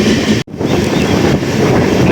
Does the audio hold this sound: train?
yes